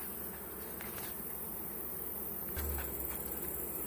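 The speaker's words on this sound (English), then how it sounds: "You can only be in a bee yard so long before the bees start to get upset with you." Honey bees buzz steadily around a hot summer bee yard during honey pulling, a dense close drone that swells slightly louder toward the end, with no voices over it.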